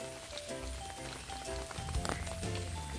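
Rain falling at a campsite in Kanchanaburi, a soft continuous patter with scattered drops and light tapping, quiet and steady with no talk.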